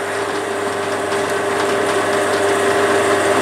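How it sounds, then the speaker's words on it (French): Pillar drill boring into wood, a loud steady mechanical whine with a constant hum and grinding rattle throughout, close up and uninterrupted. "Je me sers dans ma perceuse à colonne comme une petite."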